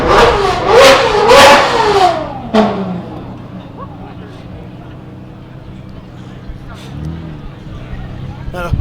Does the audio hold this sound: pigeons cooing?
no